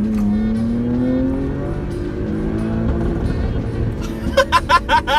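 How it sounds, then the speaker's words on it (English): A Jaguar F-Pace S engine revs steadily upward in second gear with rising pitch, loud and close, then a series of sharp bursts near the end. "Accelerate and don't change gear."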